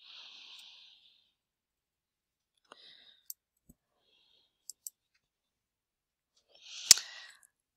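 Sparse, sharp computer mouse clicks sound singly and in a quick pair against near silence, with faint breathy noise at the start and a louder click near the end.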